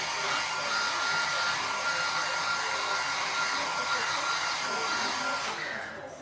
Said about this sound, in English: Just going to give this a quick blast through the dryer